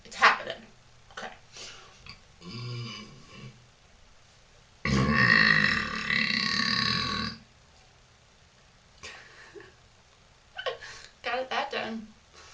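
A woman burping: a long, loud, close belch in the middle, with shorter burps and her own talk before and after it.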